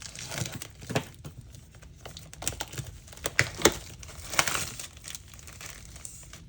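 Plastic packaging of Stampin' Up! craft products crinkles and tears as it is opened up close, a busy run of crackles and rustles with sharper snaps scattered throughout.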